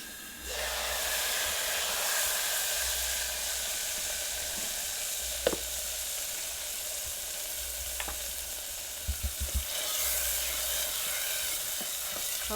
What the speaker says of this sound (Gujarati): હવે આપણે આ મસાલો ભેગો કર્યો ને નાખી દઈએ